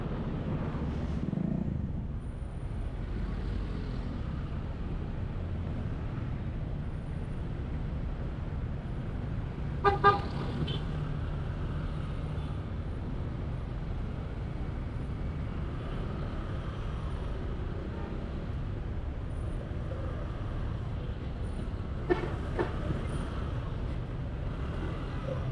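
Heavy road traffic near SM North in Manila, heard from a motorcycle, rumbles steadily with engine drone, and car horns toot briefly twice, once near the middle and once later.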